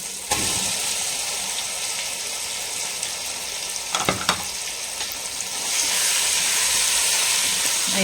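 Chicken tipped into a hot pan for a hotel-style chicken roast sets off a loud, steady sizzle, broken by a couple of stirring scrapes midway, with the frying growing stronger and hissier toward the end.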